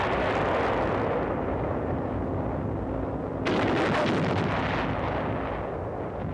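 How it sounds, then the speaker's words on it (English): Heavy artillery barrage during a WWII beach landing on volcanic sand, shells bursting near the landing craft: a continuous dense rumbling roar that swells abruptly into a louder, harsher wave of blasts partway through, with no talk over it. "From the ridges, a Jap barrage hampers unloading operations."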